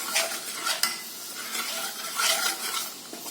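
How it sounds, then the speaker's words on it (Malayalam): Rice powder is stirred into a glass of milk, a spoon swishing and scraping against the vessel in quick, repeated strokes, near and steady with no voices. "1 ഗ്ലാസ് പാലൊഴിച്ചിട്ട് കുറച്ച് ഇളക്കി ലയിപ്പിക്കുന്നു."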